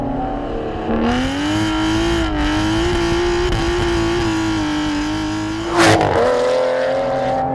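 A sports car engine roars up through a rising rev, holds a loud steady howl, then blips sharply near the end; close and powerful.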